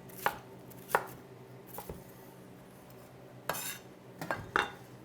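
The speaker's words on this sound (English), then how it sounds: "the rest of it I'm going to cut up into maybe 1-inch cubes" Knife chopping the cleaned-out core of a vegetable into rough 1-inch cubes on a cutting board, with sharp, separate cuts spaced irregularly, close and clear, with no talk.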